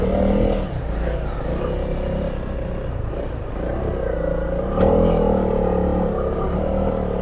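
Honda CRF300L dual-sport motorcycle on stock tires climbing a muddy off-road trail, its engine droning steadily and close with a brief louder surge partway through, no talk over it.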